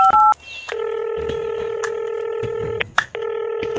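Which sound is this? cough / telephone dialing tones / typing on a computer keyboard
telephone dialing tones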